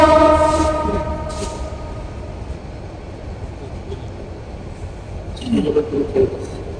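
A train passes with its horn sounding loudly at the start, the rumble of rail cars fading and then swelling again near the end, heard close by during an outdoor religious sermon gathering.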